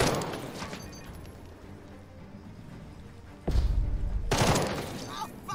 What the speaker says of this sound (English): Well, we still get a couple of shots off